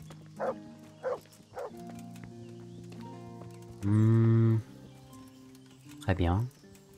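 Dog barking in the medieval game Kingdom Come: Deliverance, three short separate barks followed by a louder, longer howling bark and a final yelp, over quiet ambient game sound with a faint rhythmic ticking.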